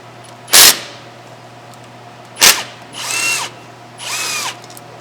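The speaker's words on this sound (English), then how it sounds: "because we're using an impact to break them free, they come out easily" An impact wrench breaking loose and spinning out the rear brake caliper bolts on a 2015 Ford F150: two short, loud hammering bursts, then two longer whirring runs, close and with no talking.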